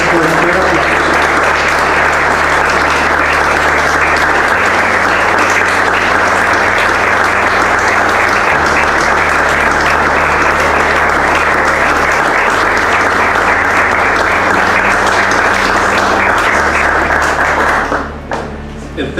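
A church congregation breaks into long, steady applause during a sermon, a dense wash of many hands clapping for nearly twenty seconds over a low sustained keyboard chord, fading out at the very end.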